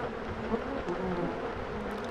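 A steady, close swarm of honey bees buzzing continuously over brood comb, a dense droning hum with no pauses.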